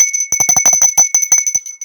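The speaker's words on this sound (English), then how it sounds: "ring that bell so you'll be notified when I'm doing videos" A bell sound effect for a subscribe notification rings loud and bright, repeating in quick dings for about two seconds with no voices.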